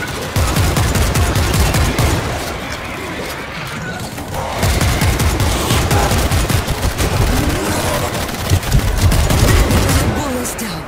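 Sustained gunfire in World War Z: rapid, loud bursts of automatic shots rattle almost continuously, with a brief lull partway through and impacts mixed in.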